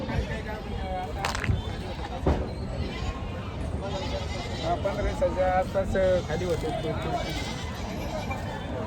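Goats, including nannies with kids, bleating at a busy open-air goat and sheep market in Chakan, Maharashtra, several calls rising over a crowd of voices and ongoing talk nearby.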